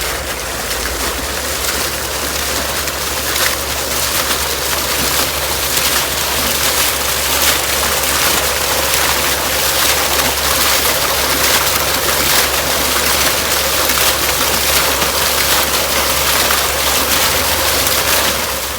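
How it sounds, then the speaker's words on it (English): Steady flowing water in a sensory garden in Seattle, a continuous close splashing rush that holds level throughout with no speech over it. "A nice place to sit and just listen to the water."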